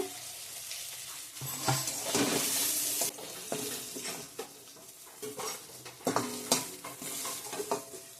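Flat beans fried with a pinch of chili powder are stirred in a pan, a steady sizzle broken by scraping utensil strokes and metallic clinks, close and fairly busy with no talking.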